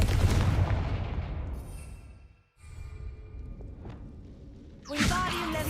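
A Confringo fire spell in Hogwarts Legacy goes off as a loud booming burst, then a brief near-silence, followed by rumbling and a second sharp blast near the end.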